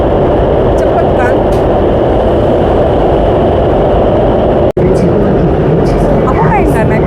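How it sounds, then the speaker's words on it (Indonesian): A high-speed underground train running at about 170 km/h, heard from inside as a loud, steady broadband rumble that continues throughout, with one brief dropout midway. "Cuman agak berisik aja. Mungkin karena kereta ini kan jalurnya underground ya"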